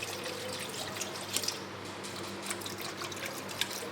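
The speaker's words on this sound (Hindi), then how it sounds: "आधा लीटर के करीब हम इसमें थोड़ा सा पानी डाल देंगे।" About half a litre of water is poured into an open pot holding an overnight-marinated lamb leg, a steady close splashing and trickling with faint drips, no voices.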